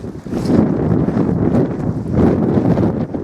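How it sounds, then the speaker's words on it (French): A strong headwind buffets the microphone while walking on a trail in Chile, producing a continuous heavy low rumble that swells and dips without a break. "Et vent de face, je vous prie, vent de face."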